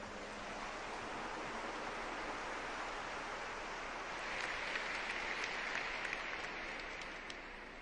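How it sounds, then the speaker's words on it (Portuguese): A congregation at a Catholic Mass applauds after the Gospel reading, a broad continuous wash of clapping heard from a distance, steady and noise-like, with a few sharper claps emerging midway. "Vamos aplaudir essa palavra."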